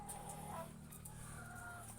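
Chickens clucking steadily close by, with overlapping calls and a constant low hum beneath them; no one speaks.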